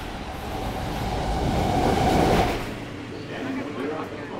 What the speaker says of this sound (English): riding the subway for the first time was a nerve-wracking experience.